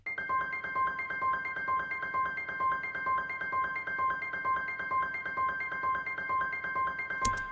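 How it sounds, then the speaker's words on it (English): A high synth layer plays an arpeggiated 1-5-1 melody pattern, a repeating rhythmic figure of steady plucked notes running continuously over a soft background pad, with a brief burst at the very end. "I've made an extra layer of this arpeggiated 1, 5, 1 melody starter"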